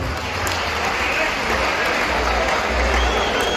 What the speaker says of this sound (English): Clap for my people.